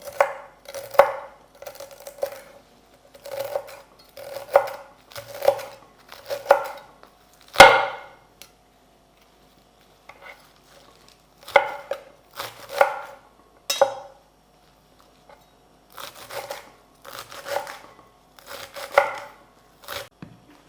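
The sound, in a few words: finely chopping fresh herbs with a knife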